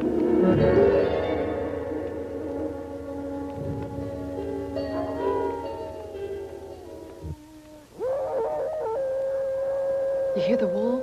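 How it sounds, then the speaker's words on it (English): Wolves howl in the distance with long, wavering tones that rise and fall, set in a 1961 Italian horror film scene, heard beneath steady music and ambience with a brief drop before the sound resumes. "You hear the wolves?"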